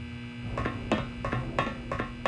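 A steady electrical buzz of a generator in the video game Return to Castle Wolfenstein hums continuously, with a few soft clicks and knocks over it, close and constant.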